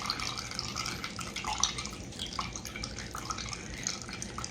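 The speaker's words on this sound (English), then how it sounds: "Let me get 2 cups of water measured over here." Water trickles and splashes into a measuring cup, with irregular drips and pours close by.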